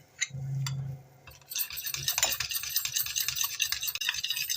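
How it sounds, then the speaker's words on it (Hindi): A spoon whisks ghee briskly in a dish, making a fast, continuous scraping and stirring rhythm that is close and fairly loud. A brief low hum comes before the beating starts. "अब इसको हम बीट करेंगे घी को"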